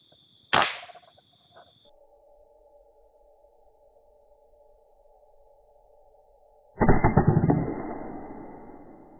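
An air rifle fires one sharp, loud crack at a coconut squirrel 20 meters away, shooting a 12.5 grain NSE slug. A steady electronic tone follows, and a noisy clattering burst comes several seconds later.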